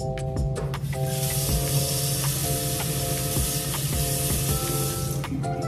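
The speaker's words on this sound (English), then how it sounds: "rinsing the spoon off so that I could taste again" Running tap water rinses a metal spoon in a kitchen, a steady hiss with small clinks and clatters over a low hum, close and moderately loud throughout.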